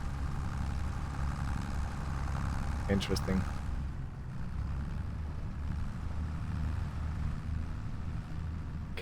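A video game tractor strains to drag a halved tree log, its low engine droning steadily throughout. A brief voice cuts in midway.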